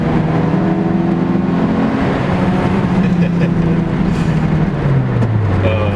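A Toyota AE82 Corolla with a 4AGE engine drives along, its engine note droning loud and steady close by, pitch holding, then dropping as it eases off near the end.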